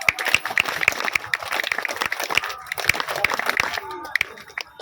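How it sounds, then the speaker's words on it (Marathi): A crowd claps in dense, sustained welcoming applause at a public event, with voices and cheering mixed in. "टाळ्यांच्या आवाजामध्ये सगळ्यांनी स्वागत करावं"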